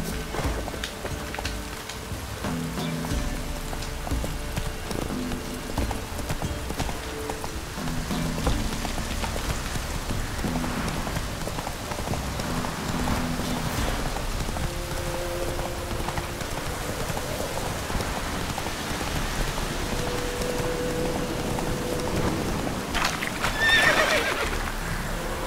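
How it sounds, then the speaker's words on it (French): Hooves clip-clop steadily through rain in a video game while a horse neighs and whinnies several times over pattering rain and background music. "Allez mon petit cheval, il est où?"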